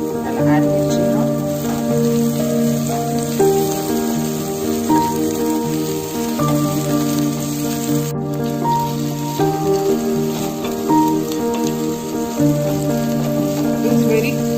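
Mirchi (chilies) frying in a pan for a methi potato dry fry: a constant close sizzling hiss that runs throughout, underneath steady background music.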